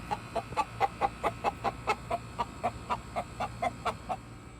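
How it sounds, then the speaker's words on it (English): A rooster clucks in a steady run of short, evenly spaced clucks, about three per second, close by over a low background hum. "Check out this rooster right here."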